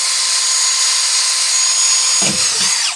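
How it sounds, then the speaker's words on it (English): A power drill pre-drilling a hole for a furnace exhaust vent whines steadily at high pitch, close and loud, then the motor winds down near the end. "Dad decided to use the genius idea of pre-drilling a hole"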